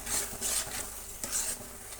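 A spoon stirs brinjal gojju thickened with peanut powder in a pot on the stove, a few soft scraping strokes about every half second over a low simmering sizzle, close by and without talk.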